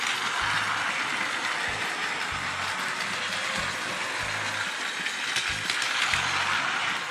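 Plarail ES series Narita Express toy train running, a continuous whirring motor and gear rattle with a rhythmic clicking repeating about every second, close and fairly quiet.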